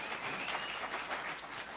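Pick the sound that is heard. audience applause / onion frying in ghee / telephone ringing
audience applause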